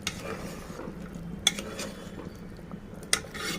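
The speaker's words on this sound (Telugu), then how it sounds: "ఇప్పుడు దీంట్లో టమాటా వేస్తాము మంచిగా కలుపుకోవాలి" Tomatoes are stirred into a chana dal curry in a pot with a soft, steady scraping, broken by two faint clinks of the spoon against the pot.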